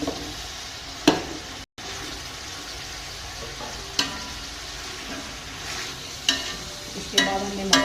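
Potatoes added to carrots frying in a pan for restaurant-style Chinese fried rice: a steady low sizzle with occasional sharp clinks and stirring scrapes spread through the clip.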